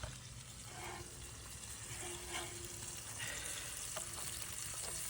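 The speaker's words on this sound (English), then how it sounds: "Just listen to that sizzle." Bacon crackling and sizzling in a hot frying pan over a campfire, a steady hiss with scattered pops, fairly quiet and with no talking.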